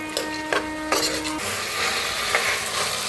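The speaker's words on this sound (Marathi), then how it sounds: "बघा छान असं भाजून घ्यायला लागल्या मस्त असं भाजायचं" Peanuts, peas, moth beans and potato roasting in oil in a pan, a steady sizzle with a few clattering stirs and a ringing scrape of a spoon against the metal near the start.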